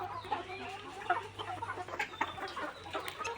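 Layer hens clucking nearby in a poultry shed, a quiet run of short, irregular clucks and murmurs with no talk.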